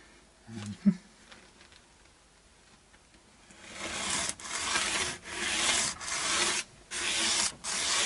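A file works back and forth across the frets of a Westone Concord 1 guitar during a refret, giving several loud rasping strokes with brief pauses between them after a few seconds of quiet handling.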